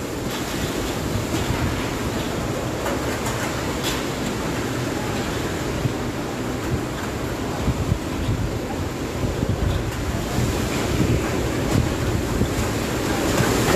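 Super Typhoon Rolly (Goni) wind swirling and roaring nonstop over Naga City, a dense, loud rushing wash with gusty buffeting against the microphone and no pause or talk.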